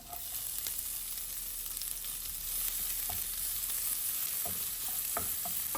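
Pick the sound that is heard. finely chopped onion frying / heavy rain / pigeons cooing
finely chopped onion frying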